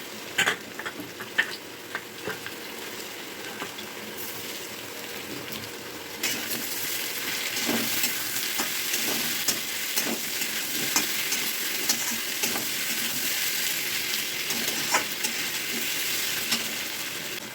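Grated ginger and garlic sizzle and fry in a hot pan, a steady crackling hiss with occasional sharp pops and stirring clicks, close and fairly quiet, with no talking.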